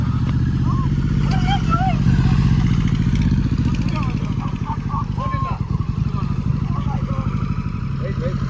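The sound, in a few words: superbike motorcycle engine running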